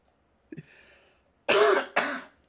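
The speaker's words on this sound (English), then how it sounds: "Having to cough lots and lots tonight." A soft throat noise followed by two loud, harsh coughs in quick succession, close up, with no talking.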